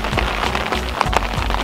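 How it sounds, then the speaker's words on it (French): Rain falls on and around a boat at an anchorage on a windy morning, a dense close patter of drops with scattered louder taps over a low rumbling background. "on est réveillé par la pluie"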